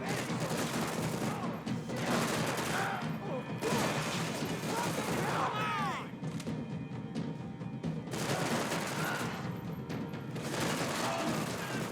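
Rapid bursts of submachine gun fire and explosive crashes in the video game Max Payne 3, sounding as a dense, continuous firefight with shouted voices over the shooting throughout.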